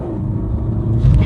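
A 2014 BMW 328d diesel accelerating at full throttle in Eco Pro mode, a brief, loud, low rumble from the engine that swells slightly toward the end, with no talking.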